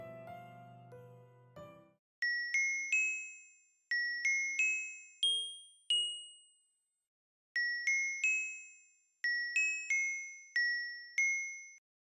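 Bright bell tones from a Christmas music track ring out in short melodic phrases through a space delay effect, each note echoing and decaying into repeats, with pauses of silence between groups.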